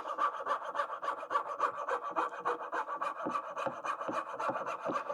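A Katz-Moses KM-19 coping saw cuts through wood for dovetailing, making steady rhythmic rasping strokes, close and continuous, with no talking.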